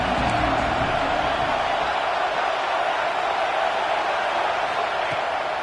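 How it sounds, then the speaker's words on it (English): A stadium crowd in the Madden 24 football video game gives off a steady, dense roar, a continuous wash of noise at even loudness with no break for the whole stretch. "This crowd ready to make its presence known."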